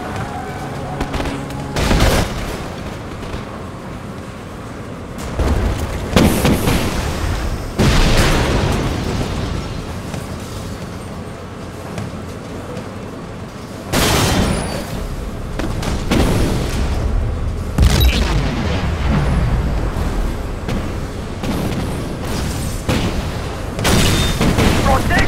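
Heavy booming blasts from a GLA superweapon bomb in the Command & Conquer 2013 strategy game, several loud explosions rumbling and crackling in waves across the stretch, with a voice talking at times among them.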